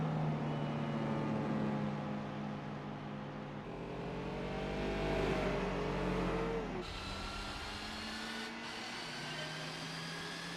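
A Mercury XR7 car races through a special stage in Gran Turismo 4, its game engine holding a steady loud drone with pitch sweeps and gear shifts, constant throughout with no voices.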